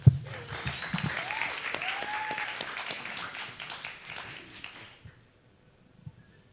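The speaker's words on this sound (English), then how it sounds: "let's give a round of applause" Audience applause at a masterclass, a dense roomful of clapping that runs steadily for about five seconds and then stops abruptly, leaving near silence with a faint tap.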